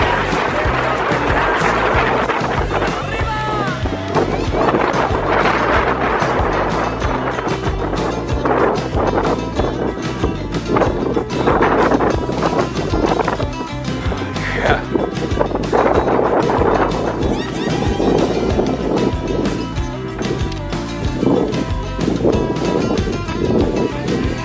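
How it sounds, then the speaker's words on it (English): Strong wind roars across a mountain pass on the Pacific Crest Trail, buffeting the microphone in continuous heavy gusts with no letup. "Man, that wind was insane."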